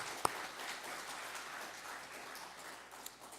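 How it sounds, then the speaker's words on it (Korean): A church congregation applauds steadily to welcome two visiting sisters, a dense even clapping that lasts throughout at moderate level, with no talking over it. "한번 다시 일어서 주시면 우리 박수로 환영하도록 하겠습니다"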